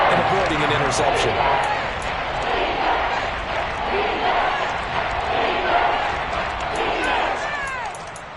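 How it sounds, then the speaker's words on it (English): A football stadium crowd roars steadily ahead of a big third down in an NFL game, a loud continuous wash of cheering with a commentator talking over it. "The crowd getting into it as we come up on a big third down."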